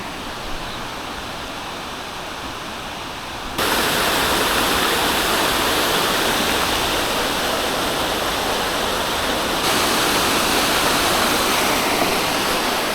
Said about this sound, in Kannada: ಇವಾಗ ಹಿಂಗೆ ನೀರು ಹರಿತಿದೆ